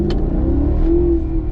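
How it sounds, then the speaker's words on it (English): A Maserati GranTurismo's engine and exhaust hold a close, loud, steady drone that swells slightly in pitch partway through. No voices are heard. "For one, I get to listen to that exhaust all the time."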